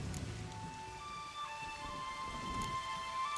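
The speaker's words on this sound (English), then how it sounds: "Hence the storm." A stormy downpour in The Witcher 3 video game hisses steadily, with thunder rumbling low beneath the constant rain and sharper cracks of drops on surfaces, alongside faint tonal hums from the game.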